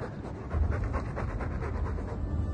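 A dog in the Dragon Age 2 video game pants heavily in a steady rhythmic stream of breathy huffs, close and continuous, with no talk.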